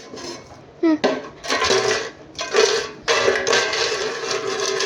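Potato chips being tossed and mixed in a bowl for an oil-free air fryer aloo chips recipe, giving irregular scraping, rattling clatter in bursts with a brief voice early on.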